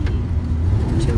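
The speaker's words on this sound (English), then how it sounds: "Laguna Canyon Road traffic jam." Cars idle and creep along Laguna Canyon Road near Laguna Beach in a traffic jam, a steady close engine rumble with a passing swell, while people talk over it.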